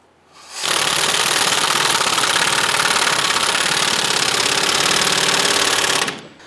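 Ford Mustang wheel hub nut being tightened with an impact-type power tool, a loud, continuous buzzing rattle lasting about five seconds with an abrupt start and stop, nothing else heard.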